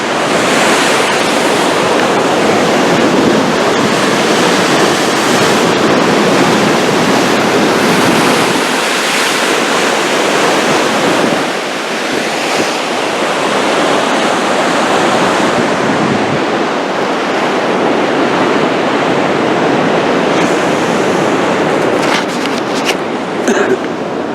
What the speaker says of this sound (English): I'm just going to have a look over this wall to see how big this sea is.